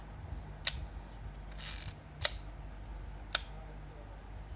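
A few sharp mechanical clicks spaced apart, with a brief ratcheting wind between them, as a Ricoh 500GX film camera is advanced and its shutter fired, against quiet room noise.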